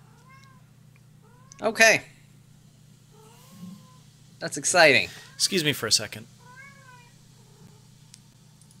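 A cat meows a few times in short, rising calls over a steady low hum, while a person speaks briefly in between.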